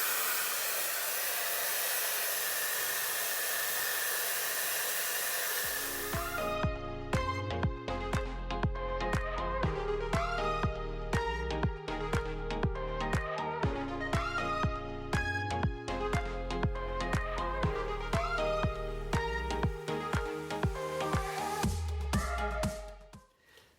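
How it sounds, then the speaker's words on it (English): A Dyson hair dryer blow-drying hair gives a steady, close whooshing rush for about six seconds. It then stops and music takes over for the rest. "So you can see I like to blow dry the hair forward and let it cool down for a second before I blow it back."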